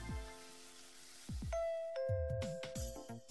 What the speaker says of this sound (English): Oh, so somebody's ringing the doorbell.